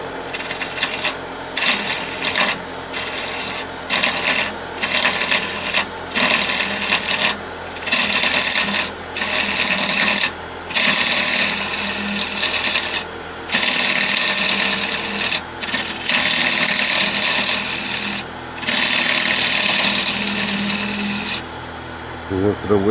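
A bowl gouge hollows a Balinese teak chalice on a running wood lathe, making a loud, continuous scraping rasp that breaks into bursts and short pauses as the tool is applied and lifted.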